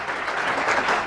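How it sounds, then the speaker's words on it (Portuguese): Applause from an audience at an industry event, a brief, dense burst of many hands clapping that holds steady and grows slightly louder. "Palmas"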